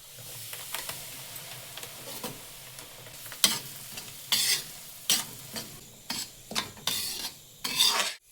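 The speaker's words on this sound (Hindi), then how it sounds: "तब तक मैं सूजी बना लेती हूँ।" Semolina is stirred and roasted in a pan for halwa, a spoon scraping in repeated bursts over a soft sizzle that grows louder and more frequent toward the end.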